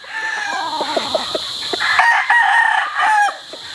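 A Dan Gray round head gamefowl rooster, wine red with white legs, crows loudly and close by, with a few clucks and a drawn-out crow, alone without talk.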